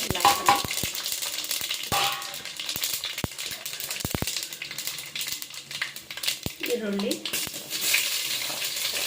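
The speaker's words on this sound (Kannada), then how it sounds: "ಈರುಳ್ಳಿ, ಹಸಿಮೆಣಸಿನಕಾಯಿ, ಸ್ವಲ್ಪ ಫ್ರೈ ಮಾಡ್ಕೊಳ್ಳೋಣ." Onion and green chilli frying in a pan for hotel-style tomato bath, a low sizzle under sharp clicks and rattles of a spatula striking the pan, plus brief clatter of utensils, close and moderately loud.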